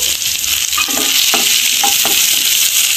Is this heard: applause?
no